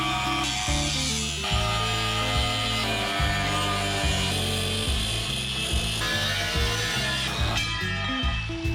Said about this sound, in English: Now we break out the grinder and see how close our measurements were.